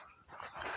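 A dog out in a farm field gives a short, close bark or yip that breaks into steady outdoor noise partway through.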